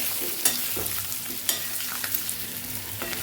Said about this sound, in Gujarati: તો બટેકા પહેલાં ઉમેરી દઈશું અને તેલમાં આપણે સાતળી લઈશું